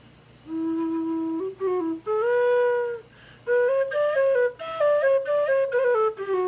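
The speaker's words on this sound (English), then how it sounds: "Ha-ha, on the big whistle." A big low tin whistle plays a slow melody, held notes and short phrases rising and stepping around, clear and close with brief pauses between phrases and no talking.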